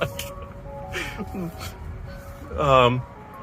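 A Tesla Model Y Boombox external speaker plays an ice cream truck jingle, a bright tonal melody that swells near the end, with people talking over and around it.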